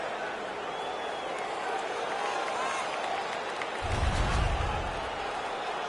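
A steady roar of a hockey arena crowd cheering after a fight in the video game NHL 17, with a voice talking over it and a low thumping swell near the end.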